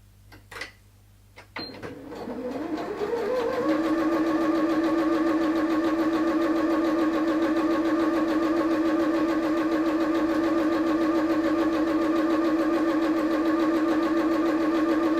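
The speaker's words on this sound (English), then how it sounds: "and we're going to sew along there" A sewing machine stitches along folded fabric for a small hair bow, starting after a few clicks and then running as a steady, even whir close by for a long stretch.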